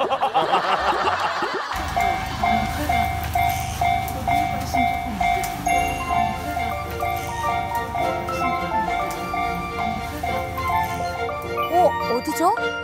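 A train running along the tracks in Yamanashi, Japan, with a steady mechanical rumble, a sustained tonal whine and announcement-like chimes, while people talk over it throughout.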